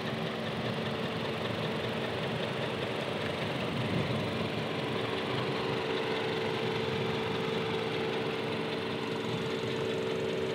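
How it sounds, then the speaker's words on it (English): Steady, fairly quiet idle of a 2018 Toyota Camry SE inline-four engine, a continuous low hum and faint mechanical ticking throughout with no talking. "this is the inline 4 with the intake there in the front and the exhaust out the back"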